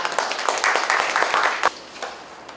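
Applause at an opening ceremony for a craft special exhibition at the Tongyeong International Triennale in Korea, a modest scattered clapping that swells briefly and then thins out within a couple of seconds.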